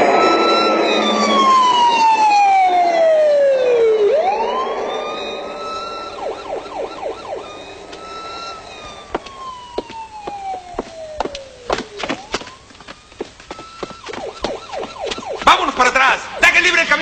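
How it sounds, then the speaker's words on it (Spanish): A loud, close ambulance siren gives long falling wails, then switches to rapid yelping bursts, with traffic noise around it. "Dejen el camino libre a la ambulancia."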